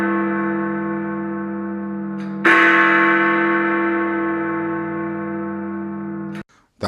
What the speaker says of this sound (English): That was the chime.